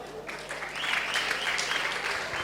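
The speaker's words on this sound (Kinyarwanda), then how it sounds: "mukomera amashyi menshi cyane Rocky" An audience at a live comedy stage show breaks into steady, close applause that swells and holds for a couple of seconds.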